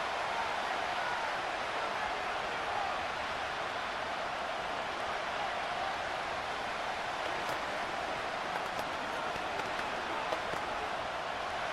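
Steady roar of a stadium crowd in the Madden 26 football video game, Browns versus Steelers, a dense wash of cheering noise holding loud and even throughout, with scattered faint clicks near the end.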